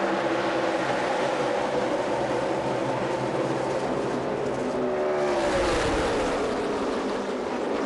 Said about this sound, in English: Kyle Busch spins the tires on the restart.